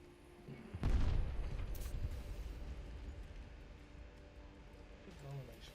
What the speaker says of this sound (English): Explosions I keep hearing.